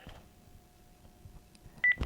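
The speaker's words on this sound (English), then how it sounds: "And did I hang this phone up properly?" A Panasonic telephone is hung up after a call, with a quiet steady line tone followed by a couple of short, sharp beeps at the very end.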